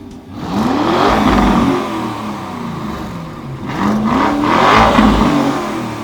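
A car engine revs twice, climbing and easing off in two swelling pulls over a steady mechanical drone, fairly loud and close, with no talking.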